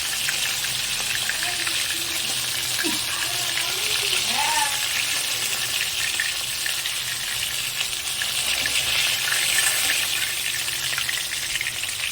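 Bhola fish frying in hot oil in a pan, a steady loud sizzle that runs unbroken throughout, with faint clinks and a soft voice underneath.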